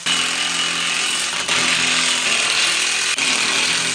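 A power tool tightening bolts on a Black Widow motorcycle rack whines loudly and steadily, close up, with two brief dips in pitch as the load changes, and no talking.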